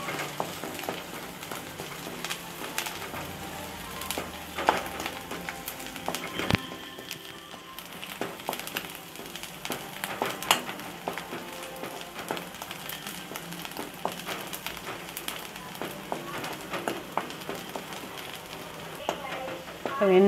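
Garlic fries in hot oil for cauliflower Manchurian, crackling and spitting in a busy stream of tiny pops, with a person talking over the sizzle.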